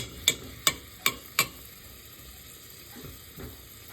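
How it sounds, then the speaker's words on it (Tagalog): Ginger sautéing in a pan for a chicken dish, with four sharp metallic spatula taps early on over a soft, steady background sizzle that continues alone afterward. "Lagay ko yung luya. Ayan. Igigisa natin."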